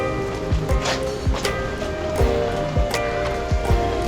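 Monsoon rain falls on a mountain trek, a dense close patter over a steady wash with repeated heavy drips and splashes throughout.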